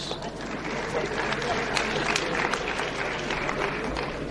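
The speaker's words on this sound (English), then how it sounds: "Round of applause." Audience applause at an ANC mayoral candidates announcement, a steady wash of clapping from a crowd lasting several seconds with voices mixed in.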